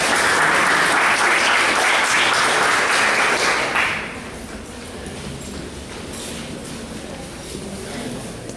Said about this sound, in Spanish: Por favor, recibamos con un fuerte aplauso.